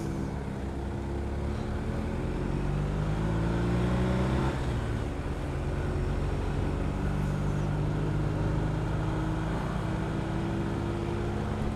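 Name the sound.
cars passing on road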